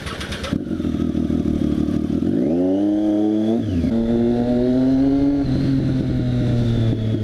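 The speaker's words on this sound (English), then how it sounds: "hear me over that SC Project exhaust on this Triumph Street Triple" A Triumph Street Triple motorcycle with an SC Project exhaust roars up close, its loud, raspy exhaust revving and shifting pitch through the gears while riding.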